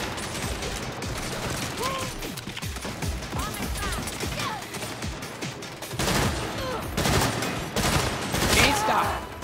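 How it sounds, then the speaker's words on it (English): Video game Saints Row battle with sniper and other gunfire: continuous rapid volleys of shots and impacts, loud and dense, with brief voices and effects mixed in. "Snipers are pinning us down."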